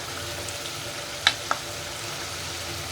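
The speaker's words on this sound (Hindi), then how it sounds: "5 मिनट हम इनको और फ्राई करेंगे ताकि मसाला अच्छे से भुन जाए।" Coriander powder, red chilli, salt, turmeric and dried fenugreek frying in a pan for red lobia curry: a soft, even sizzle with two brief clinks from a utensil partway through, close up and without voices.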